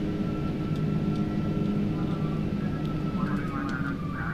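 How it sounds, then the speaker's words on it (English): A ToLiss Airbus A321 makes a hard landing and slows down in X-Plane 12, giving a continuous loud engine roar and rumble with a rising whine near the end. "Hard landing, I'll take it."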